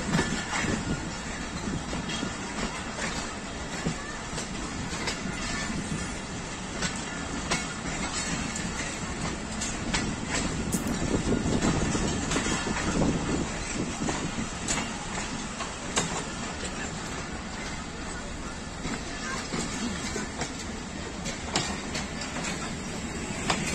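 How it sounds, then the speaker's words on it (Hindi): Jaffar Express passenger train of Pakistan Railways passing along a single-track line, a loud steady roar of wheels and carriages rolling by close at hand for the whole stretch, with rhythmic rail clatter. "ZCU 26417 के साथ ये है 39 जाफर एक्सप्रेस।"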